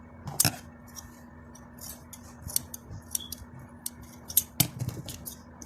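Small scissors snip through material for a DIY beauty salon craft kit, giving a few sharp, crisp cuts spaced irregularly over a faint steady hum, close and clear with no talking.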